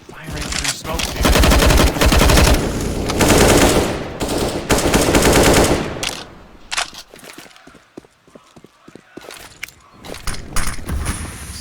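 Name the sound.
gunfire through smoke in Counter-Strike video game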